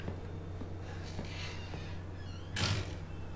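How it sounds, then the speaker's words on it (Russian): A door closes in the horror video game Resident Evil 7, one short, loud, muffled thud with a brief burst of noise near the end, over a steady low hum of game ambience. "Кто закрыл дверь?"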